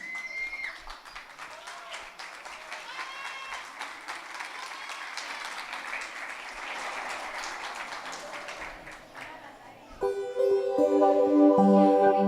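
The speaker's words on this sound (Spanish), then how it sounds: "Recibimos con un fuerte aplauso a Guadalupe Muñoz" Studio audience bursts into broad, steady applause for a young contestant at a singing competition semifinal, the clapping filling the room before music with sustained tones cuts in near the end.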